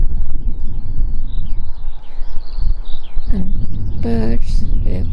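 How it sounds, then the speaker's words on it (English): Birds chirping faintly in the distance at a bog over strong wind rumble, with a brief voice-like call and a few louder tweets near the end. "And birds everywhere. You can hear them, but I haven't really seen many."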